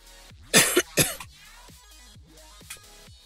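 A person with a cold coughing, two sharp harsh coughs close to the microphone followed by a fainter third, over quiet background game music.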